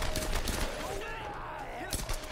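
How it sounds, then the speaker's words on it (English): Gunfire in the Tomb Raider video game, a burst of distant rapid shots crackling under a busy game soundscape, briefly and at moderate loudness. "Who's shooting at me?"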